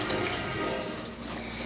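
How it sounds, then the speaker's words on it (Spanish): Water pouring into a mound of sugar, salt and baking powder for a sweet bread dough, a steady continuous splashing rush throughout, close and fairly loud, with no talk. "vamos a ponerle agua para disolver los líquidos en el centro"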